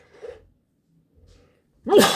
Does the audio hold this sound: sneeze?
yes